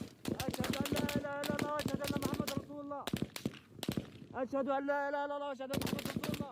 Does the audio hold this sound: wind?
no